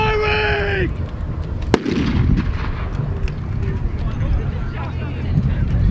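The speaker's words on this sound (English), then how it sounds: "Clear the blast zone! Firing!" A pyrotechnic blast goes off at a military vehicle show's battle reenactment, a single sharp loud bang followed by a rumbling tail and crowd noise, after a brief shouted voice at the start.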